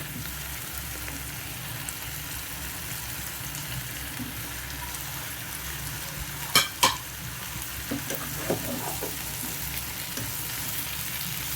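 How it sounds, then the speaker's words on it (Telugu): Bitter gourd and onion pieces fry in hot oil with a steady, even sizzle, and a few sharp spatula scrapes and clinks against the pan stand out near the middle; no voices. "ఇప్పుడు మనం తరిగి పెట్టుకున్న కాకరకాయ ముక్కలు అనమాట ఇవి కూడా వేసేసి ఒక 2 నిమిషాలు నూనెలో బాగా మగ్గనిచ్చామంటే బాగుంటుంది"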